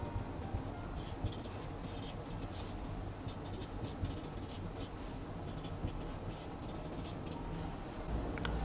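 Pen writing by hand on paper while working engineering maths problems, a steady scratchy stroke texture running the whole time at close range with faint background hum and no talk.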